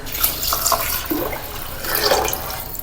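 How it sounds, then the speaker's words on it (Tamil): Water poured from a tumbler into rice for cooking ghee rice, a soft, steady splashing and trickling heard close up with no talk. "ஒன்றரை டம்ளர் தண்ணி எடுத்து வச்சிருக்கேன் அதை நம்ம ஆட் பண்ணிக்கிறோம்"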